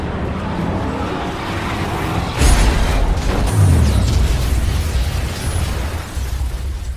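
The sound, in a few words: explosion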